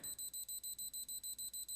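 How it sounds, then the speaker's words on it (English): Tamper buzzer on a Fido door lock beeping in a fast, even series of about a dozen short, high-pitched electronic pulses, fairly quiet and close, with no other sounds. "It's just this buzzer over here that's doing that."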